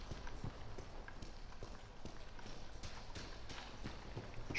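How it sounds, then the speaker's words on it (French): Footsteps of the player character in the Resident Evil 7 DLC sound as regular, hard clip-clop steps over a moderate game background, with no talking. "J'entends des bruits de pas mais ce sont les miens apparemment."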